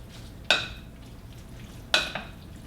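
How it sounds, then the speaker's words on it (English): A spoon stirs pork goulash with sauerkraut in a hot pot, giving two sharp scraping clinks about a second and a half apart over a quiet, steady sizzle. "Mix it up nice"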